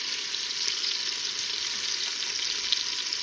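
Pork sears in an Instant Pot, giving a continuous bright hiss of sizzling fat at moderate level, steady with faint pops and no voices.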